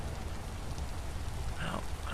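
Rain falls in the survival game Vintage Story, a steady soft patter and hiss of drops on surfaces, fairly quiet and continuous over the short stretch.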